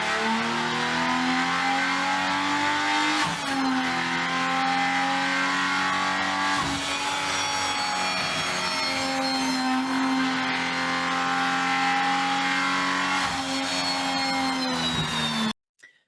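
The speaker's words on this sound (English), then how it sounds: "This is the new inline six Hurricane engine. It's doing a durability testing that Stellantis has put together" A new Ram Hurricane inline-six engine revs steadily through a durability test run, its loud, sustained drone holding near and constant with shifting harmonic pitch for about fifteen seconds before cutting off abruptly.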